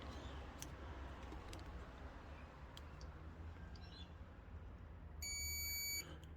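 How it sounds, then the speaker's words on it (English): A continuity tester sounds one steady electronic beep, held for about a second near the end, while probing an unbroken wire in the central locking harness of a VW T4 van, over a constant low background hum. "We're getting a beep, which means that wire's not broken."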